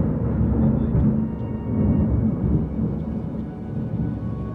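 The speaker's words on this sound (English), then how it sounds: "thunder just seemed to grow and grow in intensity" Rolling thunder from a lightning storm over an old house, a loud, sustained low rumble that swells and eases across the few seconds without any talk.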